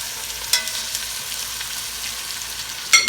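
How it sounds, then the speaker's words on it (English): Beef shoulder searing in a very hot pot, a steady close hiss of sizzling fat with brief sharp crackles and bursts as the meat is moved. "we're gonna sear this off here"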